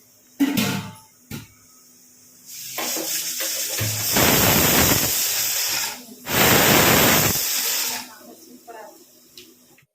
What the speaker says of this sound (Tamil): விசில் வந்துடுச்சு.